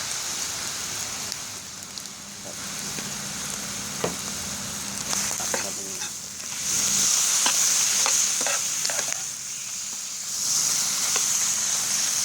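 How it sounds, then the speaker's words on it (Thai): Cucumber with egg and soy sauce stir-frying in a pan over moderate heat, a continuous rain-like sizzle with repeated spatula taps and scrapes, louder in the later stretches. "ไม่ต้องไฟแรงเกินเดี๋ยวผัดนานๆหน่อย"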